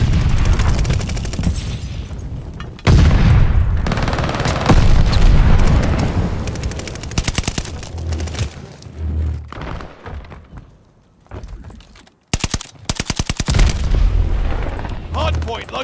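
Dense gunfire and heavy explosions from Call of Duty: Vanguard multiplayer. Loud booms and rapid bursts overlap and cut in and out, with short quieter gaps between blasts.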